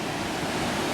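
Véu da Noiva waterfall in São Thomé, with muddy water swollen after heavy rain, roaring as a loud, unbroken rush of falling water heard close up.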